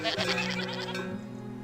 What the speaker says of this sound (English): Is that one goats?